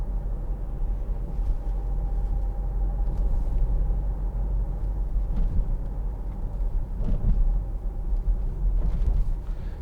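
Steady low engine rumble and road roar from a 2012 Land Rover Freelander 2 TD4 HSE 4x4 diesel driving over a bumpy road, heard from inside the cabin with occasional thumps from bumps and no rattles.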